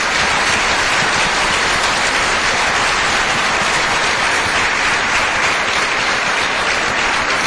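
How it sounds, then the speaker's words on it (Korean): A church congregation bursts into sustained, dense applause that fills the whole stretch evenly, loud and close with no talk over it. "darle un aplauso de gloria al Señor."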